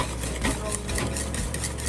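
Cheesecake batter being mixed in a bowl, a quick continuous scraping and sloshing stir with rhythmic utensil strokes against the sides, close up and uninterrupted.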